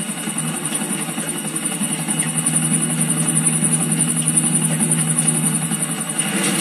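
A steady helicopter engine drone in the video game GTA IV, with a low rumbling hum and high whine, holding constant throughout with no voices.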